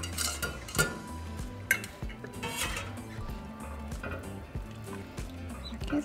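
A metal spoon stirs hominy through menudo rojo in a pot, clinking and scraping against the sides in an irregular rhythm, close and fairly loud, with no talking.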